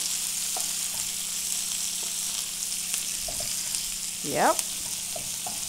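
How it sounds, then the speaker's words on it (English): Raw onions sauté in a pan for corned beef, giving a steady, close sizzle throughout, with a few light utensil taps and one brief spoken word near the end. "I'm gonna let that saute."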